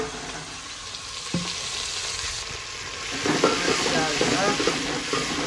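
Spices roasting in a pan, a soft steady sizzle with stirring scrapes that grows louder toward the end, with faint voices in the background.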